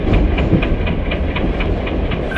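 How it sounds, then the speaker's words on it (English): A passenger express train rolls into a railway station platform in North India, a loud, close rumble with a steady, rhythmic clickety-clack of wheels over rail joints, with no talk. "Train number 12655, passenger express, is arriving at platform number 3."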